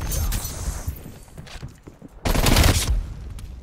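Shotgun blasts go off in Call of Duty Black Ops Cold War, a few sharp cracks early followed by a loud heavy burst of gunfire near the end amid scattered game clatter.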